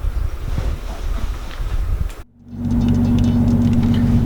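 A car driven without power steering rumbles steadily with wind noise, then cuts briefly quiet before a steadier engine drone with a low hum returns, loud and close.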